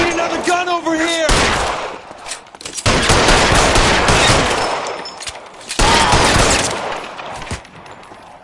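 Gunfire in the video game L.A. Noire, loud sustained bursts of shots and rattling fire filling the scene in long stretches, with brief gaps between volleys and a voice calling out near the start.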